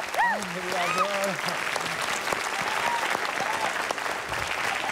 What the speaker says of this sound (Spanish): Vamos a recibir con un fuerte aplauso a Estrellita Lucero.